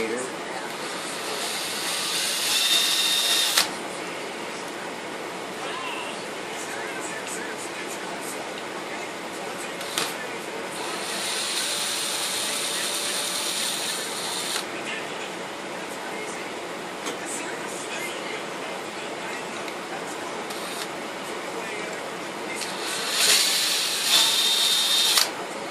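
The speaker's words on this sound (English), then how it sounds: "Since there's so many screws on this, I'll just use my drill." A power drill whirs in several bursts removing small 2mm screws, short high-pitched spins with pauses between them, close by and fairly loud.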